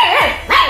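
Two quick, high-pitched barks from a 32-day-old German Shepherd puppy ring out up close, one right after the other.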